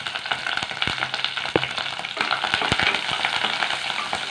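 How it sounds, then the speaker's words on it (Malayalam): Curry leaves and ginger-garlic paste fry in hot oil in a pan for green gram curry, giving a steady close sizzle with scattered sharp crackles and a few stirring scrapes throughout. "ഇതിലേക്ക് നമുക്ക് ദാ 1 ടീസ്പൂൺ ഇഞ്ചി വെളുത്തുള്ളി പേസ്റ്റ് ആണ് അതുകൂടി ചേർക്കാം"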